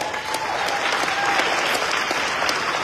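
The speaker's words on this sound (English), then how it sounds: "Give yourself a round of applause." An audience at a foundation event bursts into sustained, dense applause that stays loud and even throughout, with no voices standing out.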